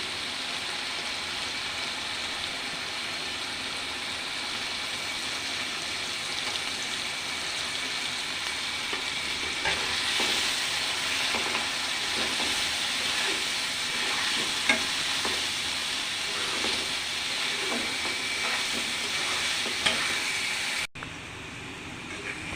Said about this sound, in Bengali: আমার মশলা ভাজা শেষ, এখন চিংড়ি মাছগুলো দিয়ে দেব।